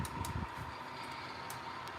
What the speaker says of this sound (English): those are pretty loud second cracks